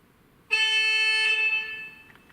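A loud, bright electronic model locomotive horn on an H0 model railway blares suddenly and holds steadily for over a second, then drops to a quieter tail with a few short chirps.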